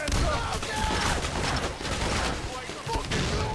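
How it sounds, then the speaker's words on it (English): Grenade launcher fire in the heist video game Payday: The Heist, a dense continuous barrage of gunfire and blasts filling the whole stretch, loud and busy throughout. "Grenade launcher."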